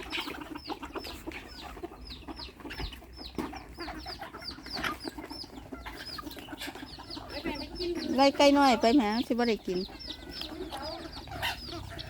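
Bantam chickens cluck and chatter throughout an evening feeding on a farm in Chanthaburi, with rapid repeated calls and a louder squawking burst partway through while someone talks to them.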